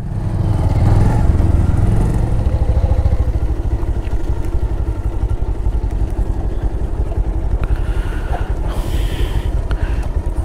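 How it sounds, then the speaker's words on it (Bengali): A motorcycle engine idles beside a roadside near a rural temple as the bike is parked, a close, steady, loud chugging that runs throughout the clip. "রাস্তার ধারে বাইক দাঁড় করালাম।"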